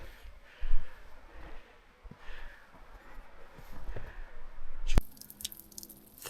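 Water drips slowly on a mountain trail near the final switchback up to Cascade Pass: faint, irregular close drops over quiet outdoor ambience, with a sharper knock near the end.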